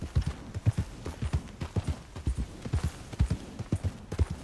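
A horse gallops in Red Dead Redemption 2, a steady rapid clip-clop of hoofbeats continuing throughout, close and moderately loud.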